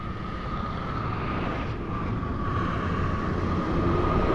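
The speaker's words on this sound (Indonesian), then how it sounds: "Dari arah barat melaju kencang, Rosalia Indah." A Rosalia Indah bus speeds past on the Solo–Semarang toll road, a loud continuous roar of engine and rushing wind that stays steady and swells slightly toward the end.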